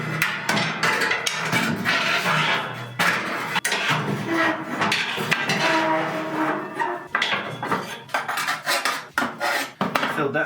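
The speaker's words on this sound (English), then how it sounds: "So make sure you also scrape the bottom of your oven." Metal tool scraping and clanking against the inside of a wood cook stove oven, removing built-up soot from its floor. The scrapes come loud and close, in a dense, continuous run with sharp clinks and knocks.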